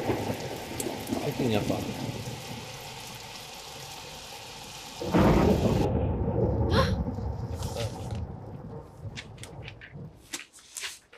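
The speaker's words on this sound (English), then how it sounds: "You gotta love it's a dark and stormy night." Thunderstorm in the video game Nancy Drew: Warnings at Waverly Academy, with steady heavy rain, a loud thunder crash midway that rolls off, then quieter drips and patter as a voice speaks briefly.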